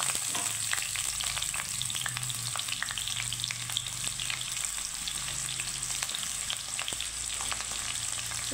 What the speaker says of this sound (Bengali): তো পটল আলু দুটোই আমি ভেজে নেব।